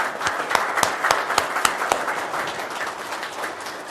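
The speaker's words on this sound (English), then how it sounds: "If we can give him a round of applause" Audience applause fills a council meeting chamber in El Cajon, a dense wash of many hands clapping steadily for about four seconds, with a few sharper claps standing out near the start before the sound eases slightly.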